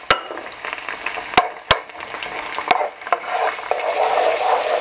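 Chopped onion sizzling in a hot pan while a spoon stirs it, with a steady frying hiss and several sharp scraping clicks of the utensil against the pan, close and clear.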